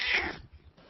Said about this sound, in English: I hear a cat. Is that a cat?